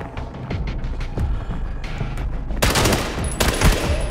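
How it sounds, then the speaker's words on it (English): Rapid gunfire from the shooter game Arena Breakout rattles in quick, sharp shots, growing louder and denser partway through, with mechanical weapon clicks between bursts. "And we shoot."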